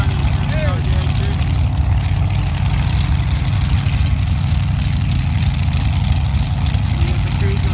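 A small block Chevy drag racing car engine at a drag strip test-and-tune session, a steady loud idling rumble held throughout without a break, with no talk over it.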